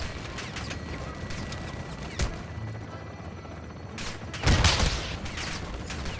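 Rapid gunfire crackles through a Call of Duty Modern Warfare 2 campaign mission, sustained automatic bursts over a dense battle din, with louder blasts standing out partway through.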